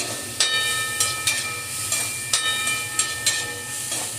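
Onions with ginger garlic paste sauté in a pan, giving a loud, steady hissing sizzle broken by sharp periodic scrapes and stirs, heard close with no voices.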